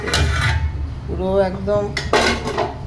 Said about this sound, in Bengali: বিরিয়ানিটা লাগাচ্ছি, তারপর ঢাকনা সারাচ্ছি